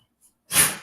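A single sharp human sneeze, short and close, bursting out after a faint intake of breath.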